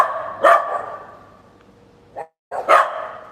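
A dog barks indoors in a few loud, sharp woofs separated by short pauses, close to the listener, with no talk.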